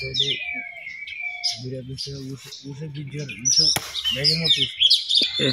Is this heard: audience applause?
no